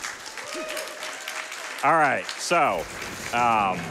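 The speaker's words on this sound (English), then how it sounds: "Claps from the back couch." Clapping from people on a couch behind players at the SGDQ 2024 speedrun charity marathon during a Twilight Princess randomizer co-op run, a light spatter of applause under close, continuous talking.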